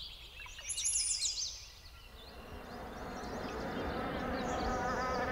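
Bees at an apiary, a dense low buzzing swarm that builds and holds steady, with high bird chirps over it near the start.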